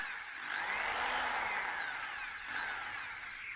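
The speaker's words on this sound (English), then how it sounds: "So I'll cut this out now using my drill nibbler, which is quick and easy." A drill nibbler whines at a high pitch, cutting sheet metal for rusty sill repair on a Skoda Fabia Mk1 in two sustained bursts with a brief easing between them, close by with no talking.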